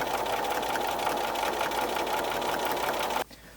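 A sewing machine with a regular sewing foot stitches along a reversible casserole dish hot pad seam, a steady, close, fast mechanical whir that runs continuously for about three seconds and then stops abruptly.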